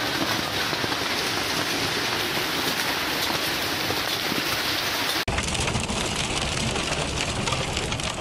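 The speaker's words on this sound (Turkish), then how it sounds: "Evet, şu anda Bursa Demirtaş Pazarı sel oldu." Heavy rain pours over the flooded Demirtaş market in Bursa, a dense, loud, continuous hiss of downpour that shifts abruptly midway to a slightly different rushing wash of rain and water.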